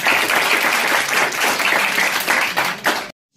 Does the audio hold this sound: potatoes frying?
no